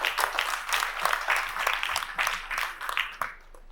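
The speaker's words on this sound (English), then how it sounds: "another round of applause for him" An audience claps and applauds at an evening tribute event, a sustained round of applause heard somewhat distantly and fading near the end.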